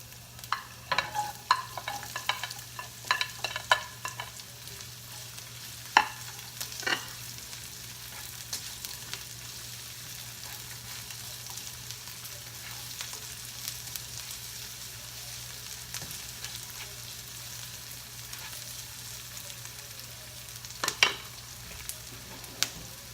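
Onion stir-fries in a pan with a quiet, steady sizzle, scattered spoon scrapes and clicks cutting in now and then, heard up close over a long stretch.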